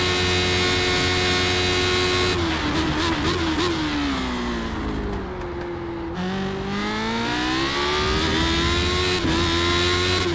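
Lotus 79 racing car engine in a racing video game revs hard and steadily, its pitch rising and dipping through gear changes as it bounces off the rev limiter, loud and continuous with no talk.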